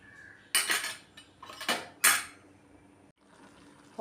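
A metal lid set onto a cooking pot of olan with taro, producing a few sharp clanks and clinks close by, then a scrape and quiet background.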